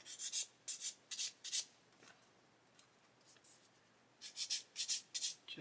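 Light sanding over plastic model kit sprue gates: close, dry, rhythmic rasping strokes in a quick run of five or so, a quiet pause with faint scuffs, then another brisk burst of strokes.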